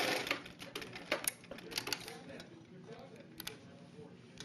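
Sewing machine stitching a seam on a scout neckerchief, a fast mechanical needle chatter, loudest at the start and then fading into quieter intermittent running.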